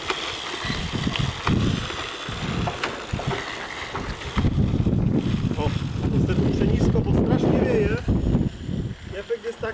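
Strong wind buffets the microphone in loud, roaring gusts outdoors during grass seed sowing, with a person talking over it throughout.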